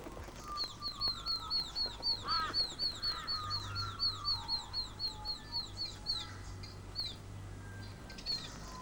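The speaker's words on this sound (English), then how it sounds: "Young dollar birds in a branch with several connecting holes wait impatiently to be fed." Young dollarbirds calling from a nest hole in a tree branch, a rapid series of repeated high, thin chirps that pulse in a steady rhythm, fairly close, over a low continuous background hum.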